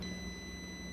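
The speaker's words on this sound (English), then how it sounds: "the buzzer, the sounds of the buzzer" The buzzer on an IoT RFID card reader sounds a steady high electronic tone, faint and continuous under a low hum, with no talking.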